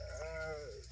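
A single goat gives a wavering, drawn-out bleat at a goat farm in Sojat, Rajasthan, clear and fairly close over a low, steady background hum.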